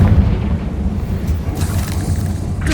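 Deep booming blast of the Confringo fire spell in Hogwarts Legacy, a rumbling low-heavy explosion that rolls on through the whole moment with crackling bursts layered on top.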